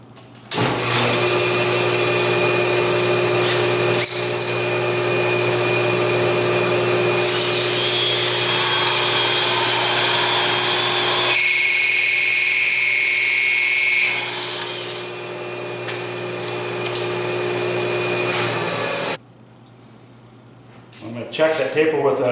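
A loud, continuous whine from a sanding disc tapering wood on a table saw taper tool, with a steady motor hum and grinding tone that shifts pitch midway, then stops, followed by faint clatter.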